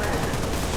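Rapid gunfire rattles through a brief, dense burst of shots in a modded Halo Reach UNSC grunt campaign mission, with no pauses.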